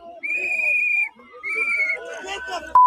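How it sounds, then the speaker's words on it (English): Someone blows a whistle outdoors on an icy street where a crowd is gathered: two long, shrill blasts close by, then a brief broken trill, with voices faintly mixed in. "Oh, someone is blowing their whistle."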